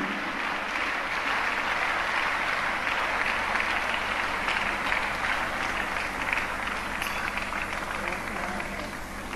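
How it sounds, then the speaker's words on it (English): Sustained applause from a large congregation at a church funeral service, a steady dense wash of clapping and crowd noise filling the whole stretch, loud and even. "Let us give a round of applause"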